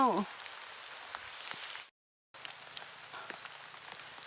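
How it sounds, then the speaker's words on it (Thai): Rain patters steadily through a rubber plantation forest on a hillside path, a dense even hiss of drops on leaves that cuts out briefly before resuming. "เย็นสบายเนาะเพราะว่าฝนมันตก"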